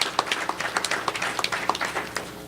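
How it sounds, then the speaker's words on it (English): Audience at a Regional World AIDS Day event applauds with quick, fairly faint claps, a brief, uneven patter of hands heard from some distance. "Could we give them all a round of applause?"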